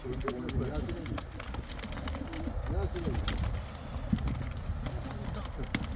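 Tumbler pigeons coo softly in the background while people talk over them, and scattered wing flaps and light knocks come through.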